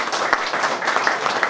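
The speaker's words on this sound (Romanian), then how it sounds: "vă rog să-l aplaudați" Audience applause at an autumn literary awards gala in Bacău, a steady dense patter of clapping filling the hall with no pauses.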